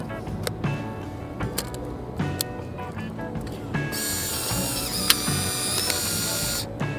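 Polaroid Go instant camera ejecting its dark slide after a film cartridge is loaded, a whirring motor with small mechanical clicks and ratcheting, close up, rising into a bright buzzing whir near the end.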